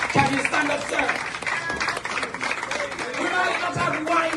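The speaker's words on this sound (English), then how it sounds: "We must all applaud Dr. Elisha for the work he's doing." Audience applause for Dr. Elisha, who is being honoured at a community gathering: steady, dense clapping that runs loud and continuous throughout, mixed with crowd noise and a few raised voices.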